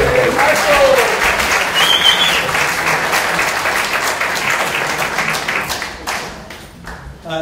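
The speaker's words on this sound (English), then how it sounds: "A big round of applause." Loud applause at a community town hall meeting as a city councilman is introduced, close, dense clapping with some cheering that gradually thins and fades toward the end.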